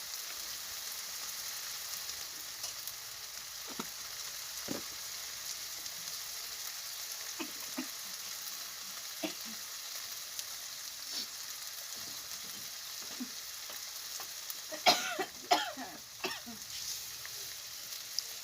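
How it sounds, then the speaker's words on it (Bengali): Vegetables such as carrot and beet frying in a pan with salt and turmeric, a constant hiss of sizzling broken by scattered stirring clatters, busier near the end. "লবণ হলুদ দিয়ে ভালো করে কষিয়ে নেবে"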